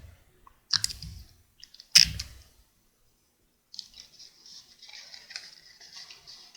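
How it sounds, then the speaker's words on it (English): Adhesive tape handled while taping a folded paper rectangular prism: two sharp clicks and crinkles, a pause, then a drawn-out, faint rasp of tape being pulled and pressed on paper, close up with no talk. "And we'll start taping around."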